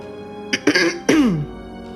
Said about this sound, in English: Desmond had to clear his throat after stuttering.